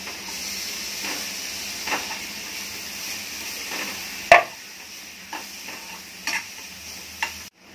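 Onion, tomato and masala sautéing in a pan with a soft steady sizzle, broken by a few sharp spoon knocks and scrapes against the pan, closing in near silence.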